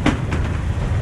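A train passes underneath at a railway crossing in Myanmar, a loud close rumble with rhythmic rattling clatter of the cars over the track, brief and continuous.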